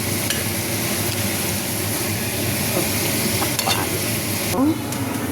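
Garlic and onion fry in a pan with a loud, steady sizzle and hiss close up, with occasional stirring scrapes.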